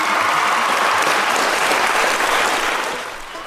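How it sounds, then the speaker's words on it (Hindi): Audience applause welcoming a radio jockey, a steady dense clapping that fills the space and fades slightly at the end, with no speech over it. "तो रहिए तैयार और तालियों से स्वागत कीजिए"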